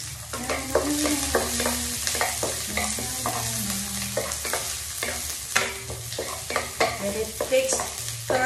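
Garlic frying in a pan for pancit canton with beef and shrimp, a bright continuous sizzle broken by repeated spatula stirs and scrapes against the pan, close and fairly loud, with no voices.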